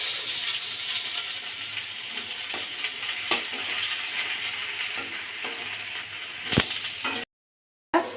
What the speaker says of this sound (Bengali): দেখুন আমার পেঁয়াজটা ভাজা হয়ে গেছে।